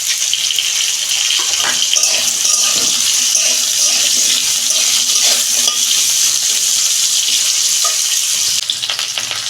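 Potatoes fry loudly in hot oil in a pan, a dense continuous sizzle and spatter close up, with light stirring clinks before it eases at the end.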